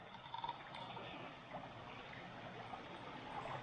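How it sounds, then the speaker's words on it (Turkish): Water from a stream, probably the Yalak creek, flows under a village bridge near Karamürsel. It makes a faint, steady wash and trickle heard from a short distance, with no talking. "Hemen alttan, köprünün altından bir su akıyor."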